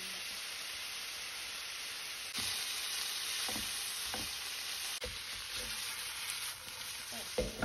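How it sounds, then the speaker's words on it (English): Ground pork sizzles in a hot pan with salt and Sichuan pepper, giving a steady crackling hiss with occasional scraping stirs, close and constant. "Cook ground pork with salt and Sichuan pepper."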